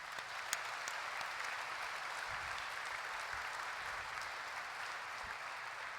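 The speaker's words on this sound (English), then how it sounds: "Overhead clap, please." An audience at a performance poetry event gives an overhead clap, with a faint, steady wash of many hands clapping together, distant and low, holding evenly throughout.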